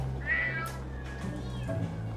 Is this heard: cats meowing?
yes